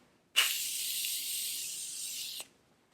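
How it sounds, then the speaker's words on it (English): One continuous fine mist of Morphe facial setting spray lasting about two seconds, a soft airy hiss that starts and stops abruptly, close by, in silence. "I'm gonna spray my face with a little bit of my Morphe spray."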